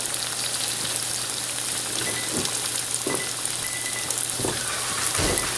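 Pork chops sizzle steadily in a hot pan as they sear for a crust, a loud, continuous crackling fry with a few sharper pops.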